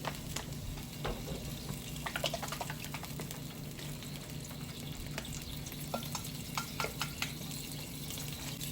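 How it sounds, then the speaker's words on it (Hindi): A little water goes into a pan where chicken and vegetables are frying for a pasta dish. A steady close sizzle runs throughout, with scattered taps and scrapes of stirring and no talking. "फिर बस थोड़ा सा पानी डालेंगे।"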